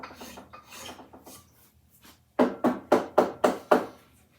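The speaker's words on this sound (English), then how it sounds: "then I'll probably rasp it in again" A hand rasp works a piece of wood for an axe handle. Soft scraping comes first, then six loud, evenly spaced rasping strokes close by.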